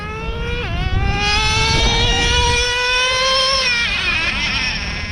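A Traxxas Slayer Pro 4x4 nitro RC truck engine screams loud and close, its rising whine dropping sharply as it shifts into second gear, then climbing again and dipping near the end.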